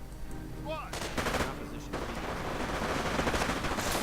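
Rifle and machine-gun fire in a strategy video game battle, with riflemen, rangers and grenadiers trading shots. Dense, continuous bursts of gunfire crackle steadily with sharp volleys throughout, preceded by a brief whistling tone.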